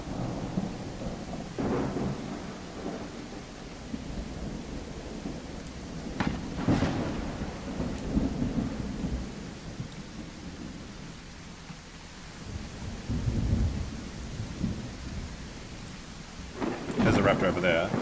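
Thunderstorm in The Isle dinosaur video game: steady heavy rain with several loud rolling thunder cracks, near and sharp, with faint voices underneath.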